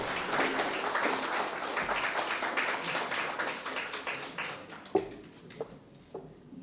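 An audience at an inter-schools debate competition applauds a presenter, a dense burst of many clapping hands that thins out and fades into a few scattered claps and light knocks by the end.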